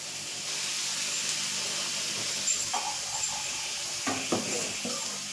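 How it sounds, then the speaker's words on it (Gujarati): Water sprinkled onto a hot dosa griddle gives a steady close hiss and sizzle that lasts throughout, with a few brief crackling bursts near the end. "તવો ગરમ થાય એટલે આપણે આ રીતે પાણી છાંટી લેશું."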